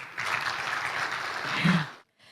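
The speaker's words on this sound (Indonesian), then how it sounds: "Boleh minta tepuk tangan nih Bapak sekalian?" An audience of men at an Indonesian army and Tribun Network digital literacy training event applauds: a dense, steady wash of clapping for about two seconds, moderately distant, then it cuts off abruptly.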